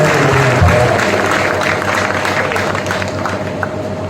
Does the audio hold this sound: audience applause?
yes